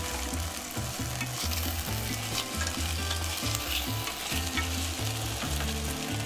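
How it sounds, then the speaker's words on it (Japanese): Onions stir-fried in a pan until softened, a dense continuous sizzle with rapid scraping and tossing of a spatula against the pan, close and fairly loud, no talk. "玉ねぎを炒めます。 少ししんなりするまで炒めます。"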